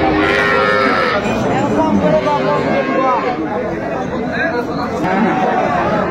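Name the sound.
cows and calves at Aftabganj cattle market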